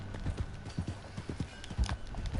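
Horse hooves clip-clop at a steady walking pace in Red Dead Redemption 2, fairly quiet and close, with soft background ambience.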